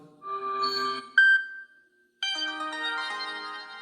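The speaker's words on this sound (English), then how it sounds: "now I have a new notification sound for Gmail" A Samsung phone notification tone previews in a settings menu, a short melodic chime, then a single bright ping and a brief silence before a second, longer chiming tone begins. No voices.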